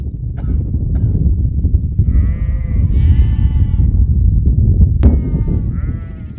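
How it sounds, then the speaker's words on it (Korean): Goats and sheep bleat repeatedly at a Bedouin desert camp in Jordan as the herd prepares to head out to graze, their calls rising over a steady, close rumble of movement and background noise. "염소와 양들이 풀을 뜯으러 나갈 준비를 하는 모양입니다."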